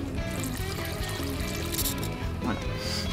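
A stream of water trickles and pours into standing water, a steady close splashing flow that continues throughout, with faint voices in the background.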